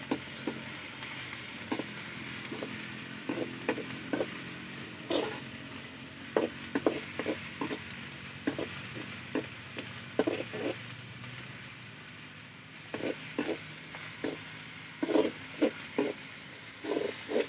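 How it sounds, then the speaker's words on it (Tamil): Onions fry in a pan for mutton biryani, a soft steady sizzle broken by repeated scraping clinks as a spoon stirs them, close and fairly quiet with no talking. "நல்லா வெங்காயம் வதங்கிடுச்சு."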